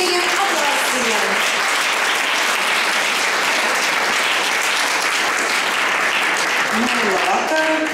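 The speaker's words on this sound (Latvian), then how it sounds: "Sagaidam lūdzu ar sirsnīgiem aplausiem." An audience at a folklore group's 25th anniversary concert gives a long, warm round of applause welcoming a cultural centre director to the stage, the dense clapping steady and loud throughout.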